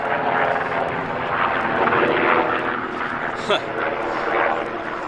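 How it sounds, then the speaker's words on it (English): A helicopter's rotor thrum and engine drone rumble steadily overhead on a hiking trail, loud and continuous, with faint ambient sounds around it. "there's got a helicopter flying overhead"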